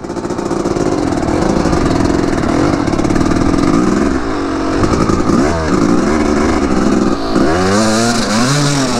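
A two-stroke motorcycle engine starts and revs loud and close, a buzzing, raspy drone that rises and falls through several throttle blips with no talking.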